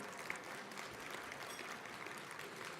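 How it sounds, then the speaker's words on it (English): Steady applause from an audience for a high school quartet and show choir, many hands clapping continuously, heard from a moderate distance. "Let's give them one more hand of applause."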